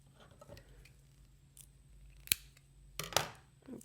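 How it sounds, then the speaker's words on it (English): Scissors snip through craft string in a few quick, sharp cuts, close and crisp against a quiet room, with no one speaking. "I may even cut this string a little bit."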